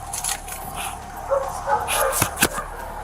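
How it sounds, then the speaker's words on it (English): Large dogs bark inside a house during a police search warrant entry, a few sharp barks and yips close by over a muffled indoor background, with no clear talk. "God, it sounds like bigger dogs."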